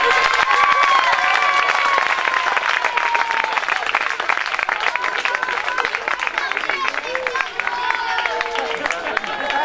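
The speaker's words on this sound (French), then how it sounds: "Allez, on applaudit" Crowd at a youth sports trophy ceremony applauding and cheering a team: continuous dense clapping with shouts and children's voices over it, loud and sustained throughout, with some talk mixed in.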